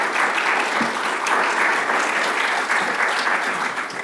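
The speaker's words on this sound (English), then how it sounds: "a round of applause for our panelists" A seated audience at a legal education presentation gives the panelists dense, even applause that holds steady and close for about four seconds, with no voices over it.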